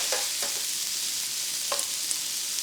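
Shrimp sizzling in buttery, spicy pan juices for Cajun blackened catfish tacos, a steady close frying hiss with a few light stirring scrapes, no talking.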